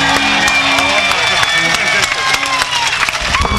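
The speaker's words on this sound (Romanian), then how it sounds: "mă ridic în picioare și vă aplaud" An audience applauds at a live Cenaclu song launch, with dense, steady clapping filling the whole stretch while a voice talks over it.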